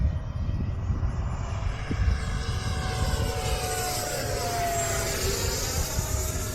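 An FMS Futura 64mm EDF model jet makes a full-throttle pass: a loud, sustained ducted-fan whine and rush that holds steady throughout, with a slow pitch shift as it goes by.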